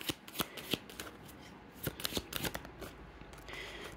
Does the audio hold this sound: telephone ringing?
no